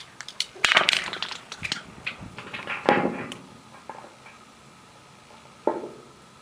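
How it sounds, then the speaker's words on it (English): Object dropped down a 600-foot well, rattling and clattering as it bounces inside 6-inch PVC casing: several sharp knocks, then fainter, more distant taps as it falls farther, with no talking. "let's drop it, and maybe you'll hear it bounce around in there"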